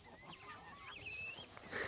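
Free-range chickens and turkeys scramble after an apple tossed among a large flock at dusk, with honking, squawking fowl calls rising and falling close by and a loud burst of bird noise near the end.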